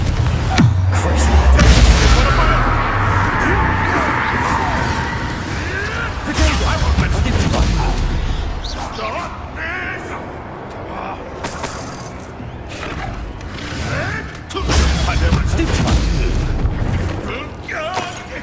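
Confringo blasting spells explode in the Hogwarts Legacy video game, a run of loud booming blasts with crashing debris and whooshes, one after another, under busy game sound and brief spoken spell names.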